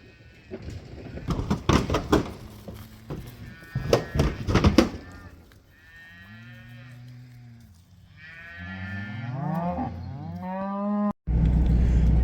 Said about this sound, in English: Cows going out to some fresh grass